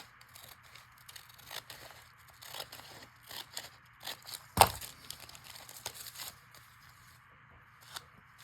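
Scissors trim about an eighth of an inch from a scrappy mini notebook page, giving a run of soft, quiet paper snips and crinkles with one sharper close cut partway through.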